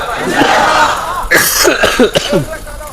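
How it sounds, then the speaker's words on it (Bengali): A man coughs several times in quick bursts during a religious gathering, loud and close, with crowd murmur behind. "এই কাশি বহুদিন ধরে চলতেছে"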